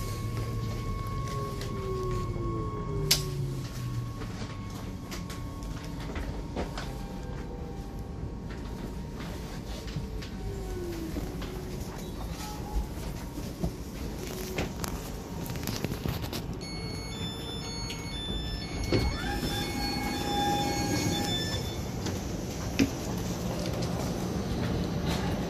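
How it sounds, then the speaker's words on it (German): A Deutsche Bahn ICE train arrives at a station, its faint rumble and rising and falling electric whines sweeping past, with a soft hiss and a brief squeal near the end. "Da ist ein ICE, der Deutsche Bahn."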